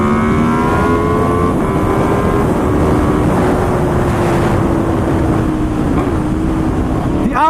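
An Aprilia RSV4 RR sport motorcycle engine roars loud and close, holding a deep growling drone as it pulls hard, with heavy wind rushing across the microphone.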